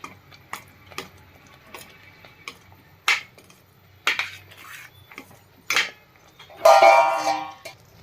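Spoon scraping and clinking in a pan as paneer, cashews and fresh coriander are stirred into a curry, irregular close taps and scrapes with a longer stirring rasp near the end.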